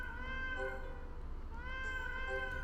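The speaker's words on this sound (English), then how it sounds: "Oh, this is a Norwegian forest cat." A Norwegian forest cat meows twice in a video game, two drawn-out, plaintive calls close up and clear over a low steady background hum.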